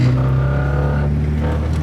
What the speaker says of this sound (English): I think this may be a second gear burnout.